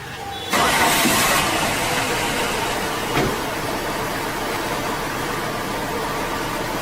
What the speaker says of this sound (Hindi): अब ये गाड़ी स्टार्ट करनी है